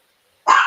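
A dog gives a single sharp bark in the background after a moment of silence.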